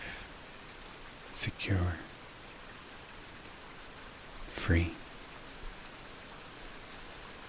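Steady soft rain falls in a quiet bedroom during an ASMR bedtime story. It forms a constant hiss in the background, and a person speaks twice over it.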